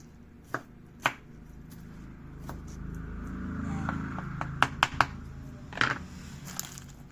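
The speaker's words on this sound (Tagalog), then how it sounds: "hiwa tayo guys ng sibuyas. Tsaka bawang." A knife chopping onion and garlic on a cutting board, a few sharp isolated cuts followed by a quicker cluster of close, crisp knocks, with soft background hum between strikes.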